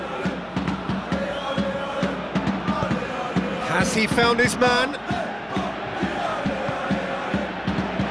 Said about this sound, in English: I think they can sense a comeback here and so can this crowd.